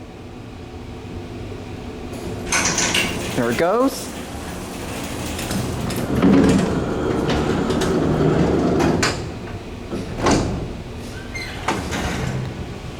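A Dover hydraulic freight elevator door slides shut in a university building, a loud rolling rumble and clatter ending in a thud, with a brief spoken comment and background machinery hum.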